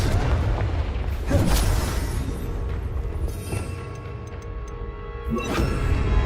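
Confringo fire spell blasts in the video game Hogwarts Legacy: loud, low rumbling booms and bursts over a dense, continuous battle din, with a couple of sharper impacts and bright chimes near the end.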